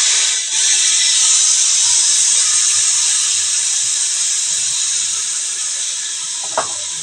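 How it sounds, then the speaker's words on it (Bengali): Spice paste frying in hot oil for vegetarian shahi paneer masala, a loud continuous sizzling hiss that fades slightly toward the end, with a faint clink near the finish. "এবার এটাকে ভালো করে ভাজবো।"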